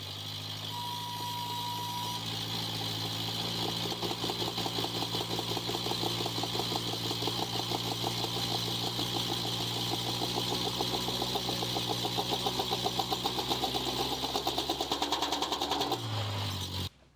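A Subaru Impreza GC8 with a bad drive shaft runs with a steady mechanical rumble and rapid, rhythmic vibration throughout, a continuous droning shudder that holds for over fifteen seconds before cutting off abruptly.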